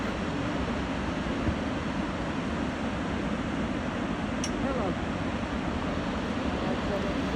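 Kravica Waterfalls in Bosnia pour in a steady, broad rushing roar of falling water, constant and fairly even from start to finish with no clear breaks.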